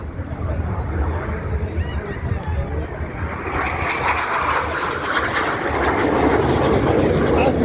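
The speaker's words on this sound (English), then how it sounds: "Each aircraft now turns hard away from the display line." RAF Red Arrows jets roar past at the 2023 Rhyl Airshow, turning hard away from the display line. A loud, continuous broadband engine rush swells and grows stronger toward the end.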